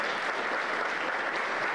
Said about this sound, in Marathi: आपण जोरदार टाळ्या वाजवूयात.